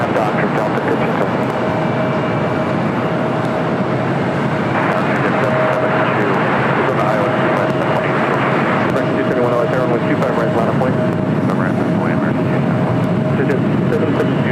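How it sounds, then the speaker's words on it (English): A Delta Airlines A320 takes off at LAX, its jet engine roar steady and broad throughout, with radio chatter and talk over it. "Next takeoff here on the south side is Delta Airlines Flight 1517, heading to Kansas City. It's an A320."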